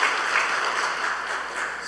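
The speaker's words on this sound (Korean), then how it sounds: "우리 예, 박수로 환영하겠습니다" A church congregation at a Sunday service applauding in welcome, a dense, steady burst of many hands clapping together close by.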